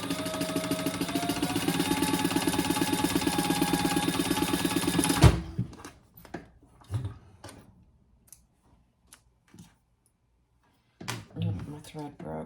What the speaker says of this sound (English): So now we'll sew down one side as well.